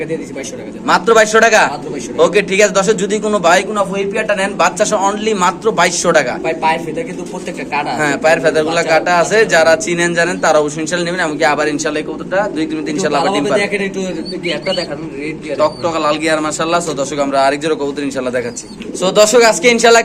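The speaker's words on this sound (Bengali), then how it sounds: "একদম চমৎকার কোয়ালিটির কিছু কবুতর থাকবে" Pigeons coo repeatedly at a pigeon farm, close and continuous, with someone talking loudly over the birds throughout.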